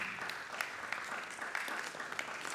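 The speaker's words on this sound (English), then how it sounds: "A round of applause." Audience applause at a panel discussion on youth participation in economic development, continuous clapping with sharper individual claps standing out, fairly faint and distant.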